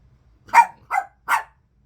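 Three quick dog barks in a row, close and fairly loud, reacting to card shuffling, with silence before and after.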